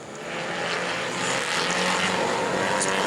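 Race car engine at full throttle on a qualifying lap in a Bomber class event at New Smyrna, a steady loud roar holding throughout with no talk over it.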